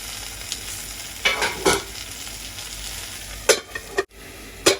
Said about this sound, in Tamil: ரெண்டு நல்லா அப்படியே எண்ணெயில் வந்து வதங்கி